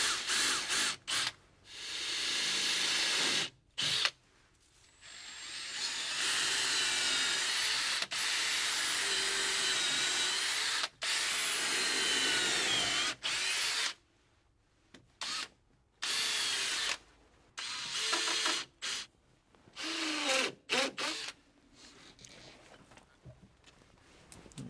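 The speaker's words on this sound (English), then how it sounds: "this one, we're going to drill full depth, take the plate out, and drill even deeper" A power drill whines loudly in long bursts, stopping and restarting several times, its pitch dipping as it bores a deep hole for propeller shaft alignment.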